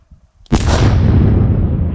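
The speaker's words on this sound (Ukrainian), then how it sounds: "Увага! Вибух!" A single powerful controlled explosion by a police bomb-disposal team in Ukraine erupts suddenly after a quiet moment, its deep roar and rumble rolling on and slowly fading.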